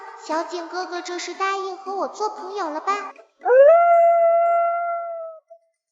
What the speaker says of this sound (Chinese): 我好像听到有狗狗叫了